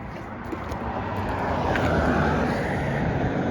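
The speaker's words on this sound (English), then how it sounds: "Car." A car passes on a road near a wooded hiking trail, a broad whooshing rush swelling gradually louder toward the end, steady and fairly close with no talk.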